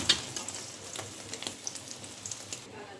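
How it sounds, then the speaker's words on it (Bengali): An egg frying in oil in a pan: a soft, steady sizzle with a string of light clicks and scrapes from a spatula, close and fairly quiet, with no talk. "ডিমটা আমি ভেজে নিচ্ছি।"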